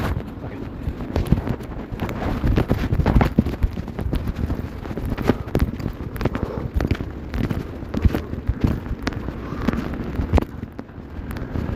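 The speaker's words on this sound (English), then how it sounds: "Windy out here too. Very, very windy." Strong gusting wind outdoors buffets the microphone steadily for the whole stretch, a loud rumbling roar with uneven surges and no talk.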